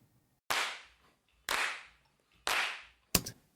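Hand claps in a song's backbeat, four sharp bright hits spaced about a second apart, the last two close together as a quick double, each with a short decaying tail, clear and alone.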